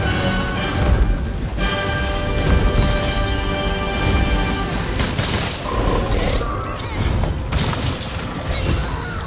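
Gunfire from a ranged weapon in the monster-hunting action game Monster Hunter World: Iceborne, sounding as a dense, continuous stream of loud blasts and crashing impacts mixed with game effects, with no talk.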